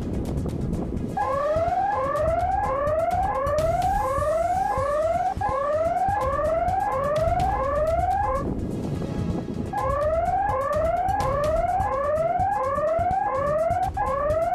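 An automatic intruder alarm at a building site sounds loudly with a steady, repeating rising electronic wail, rapid cycles that run throughout with a short break partway.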